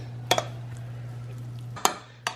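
Big spoons stir a mayonnaise mixture for chicken tostadas in a bowl, giving a few sharp clinks and scrapes, a double knock early, then two more later, over a low steady hum.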